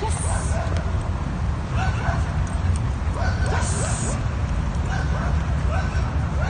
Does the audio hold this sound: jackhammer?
no